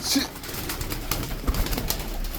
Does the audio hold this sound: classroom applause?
no